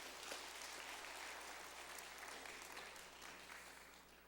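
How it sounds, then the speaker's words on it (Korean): A church congregation applauding during a Sunday worship service, a faint, distant, even patter of many hands that holds steady and slowly tapers toward the end. "감사의 박수로 영광 돌리겠습니다."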